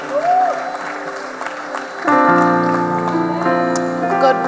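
Audience applause at a gospel event honouring a singer's father, a steady wash of clapping that grows fuller and louder midway, with sustained musical tones and some voices running underneath.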